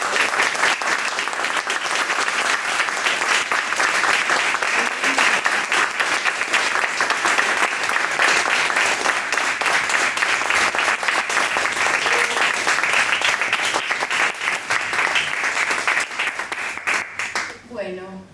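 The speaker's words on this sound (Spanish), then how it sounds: "Aplausos." An audience at a book presentation at the National Library in Buenos Aires breaks into sustained, dense applause that carries steadily and fades out at the end.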